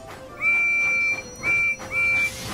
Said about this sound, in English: Percy weeshed and whooshed with a whistle and a whoop.